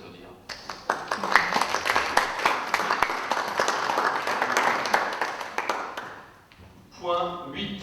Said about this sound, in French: On peut vous applaudir.